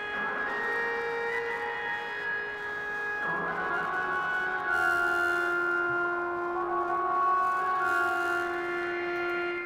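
A subtle lead instrument sits at the back of the hook in the beat for a Punjabi hip-hop track. It holds sustained melodic tones over a steady bed of music, with no voice.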